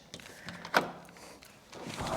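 Wide hideaway patio doors on a screened-in back patio of a courtyard villa being pushed open: a few soft rolling and clunking sounds with one sharper knock, quiet and close.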